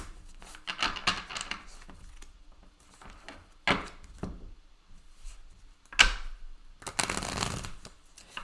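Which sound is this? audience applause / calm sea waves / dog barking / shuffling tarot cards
shuffling tarot cards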